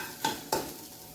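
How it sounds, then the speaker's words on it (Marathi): Onion dry-roasting in a pan, stirred with two quick scraping strokes close by over a faint continuous sizzle, no voices. "त्यामध्ये मी कांदा भाजून घेते आहे"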